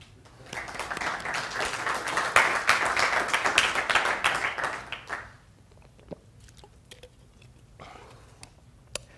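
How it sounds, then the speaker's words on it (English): A burst of applause from a crowd, steady clapping for about five seconds before fading out into quiet room noise with a few stray claps. "So applause for Bert"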